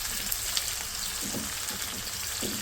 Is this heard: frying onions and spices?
yes